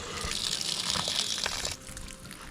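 Water gushes hard from an outside wall hydrant on a camp boathouse, a loud bright splashing rush that drops off sharply near the end to a quieter trickle.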